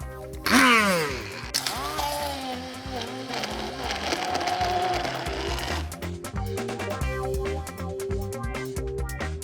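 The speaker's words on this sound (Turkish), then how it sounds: "Şimdi hepsini blenderdan geçirebilirim." A blender roars loudly nearby, its motor pitch shifting as contents churn, with a rattling, chopping texture throughout.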